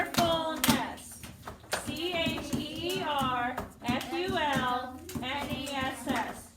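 A child claps and bangs on a surface in short, irregular thumps while an adult keeps talking over most of the clip.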